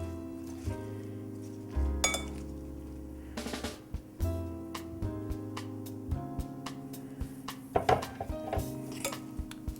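Utensils scrape and clink against a bowl as pasta salad is tossed, with irregular metallic knocks and rattles coming in uneven bursts close to the microphone.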